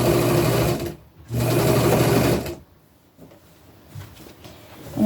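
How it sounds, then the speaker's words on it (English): A sewing machine stitches an upcycled tunic in two steady, close bursts of whirring with a short pause between them, then goes quiet except for faint handling noises. "I'm just going to sew this on all the way around, pulling it and making sure it meets all the points"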